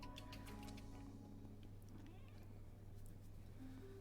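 A pet cat named Caddy meows indoors in a few short, mid-loud calls near the start and again at the end, with a steady low hum running underneath and no talking.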